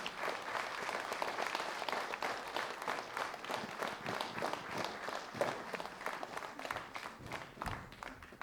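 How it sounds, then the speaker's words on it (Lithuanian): A concert audience claps in a sustained round of applause, a dense, even patter of many hands continuing throughout at moderate distance. "Taip, jūsų plojimai."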